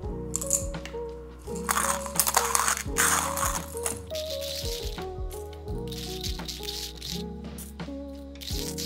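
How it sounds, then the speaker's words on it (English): A Kingrinder K6 hand grinder crunches coffee beans fed in a few at a time, giving a steady rattling, ratcheting churn with gritty cracks, close and continuous. "We're gonna literally slow feed the coffee beans. So we're just gonna put just a couple, then grind,"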